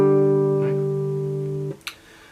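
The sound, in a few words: guitar intro, strings 4 and 3 open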